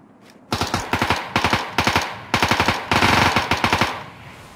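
Automatic gunfire in the video game Ring of Elysium, loud rapid bursts of evenly spaced shots in five or six sustained volleys with brief pauses, close and alone.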